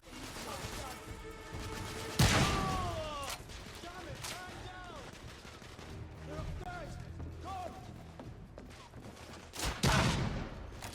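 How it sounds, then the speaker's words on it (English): Triple-barrel shotgun firing three slugs at once in the video game The Order: 1886, two heavy booming blasts about seven seconds apart, amid game music, effects and a talking voice. "a triple barrel shotgun that fires 3 slugs at the same time"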